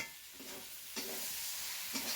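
Shrimp curry with banana stem being stirred in a pot over a clay village stove, spoon scraping and sizzling in quiet, repeated strokes about once a second against a low frying hiss.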